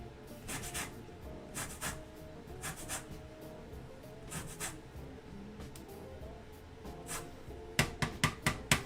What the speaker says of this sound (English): There's the zest of one orange.